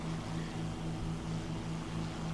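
A Fw 190D-12 fighter's piston engine drones steadily during fast level flight in a video game, a continuous even propeller hum with no talking.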